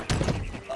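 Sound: horse dying sound in video game

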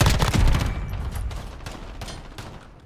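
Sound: gunfire in the Modern Warfare video game

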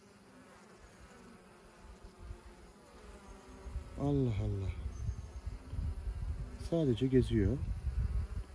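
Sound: honeybees at hive with queen bee

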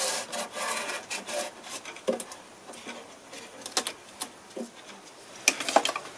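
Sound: filing wood of a broken guitar headstock with a file

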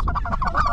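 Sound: specklebelly goose calls

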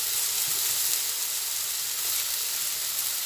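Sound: chicken frying with ginger and pepper

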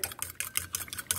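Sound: mixing bread crumb and egg mixture

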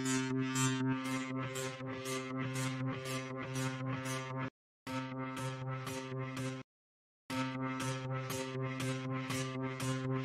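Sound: Floppytron sample preset made from pitched floppy drive sounds

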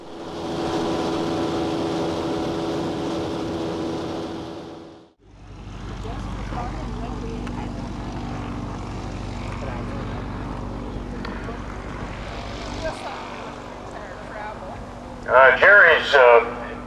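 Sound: Piper J3 Cub seaplane propeller engine

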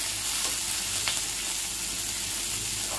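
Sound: sautéing curry leaves and coriander for ginger chutney

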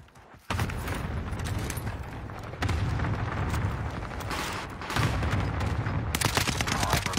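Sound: cluster airstrike explosions in a video game

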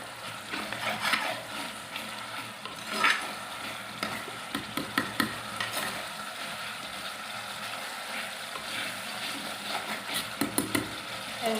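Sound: sardine curry boiling in a pan

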